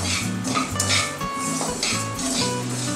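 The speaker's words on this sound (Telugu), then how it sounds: "1 కప్పు ఆవాలు వేస్తున్నాను." A cup of mustard seeds being dry roasted in a pan for mango pickle, heard as busy metallic scraping and clinking of a utensil against the pan, continuous with small rattling bursts and no talk.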